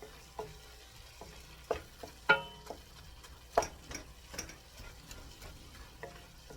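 A large chopped onion sautéing in a pot for shepherd's pie soup: a quiet sizzle broken by sharp, irregular taps and scrapes of a spoon against the pot.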